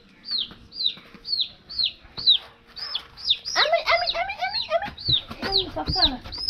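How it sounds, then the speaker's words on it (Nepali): Chicks being caught give a rapid series of shrill, downward peeps close by. Hens cluck and squawk in a burst of agitated calls partway through. "यहाँ चल्ला पक्रै हुँदैछ"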